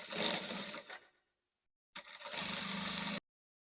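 A sewing machine stitches a lace edge onto a dress hem in two close, steady whirring runs, the first about a second long and the second just over a second, separated by a short pause.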